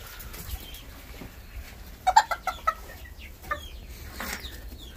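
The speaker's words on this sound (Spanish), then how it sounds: "Ya la gallina la eché aquí con el calabazo pelón otra vez." A hen near a pumpkin clucks in a short cluster of sharp calls amid faint rustling on a small farm, with a few quieter sounds afterward.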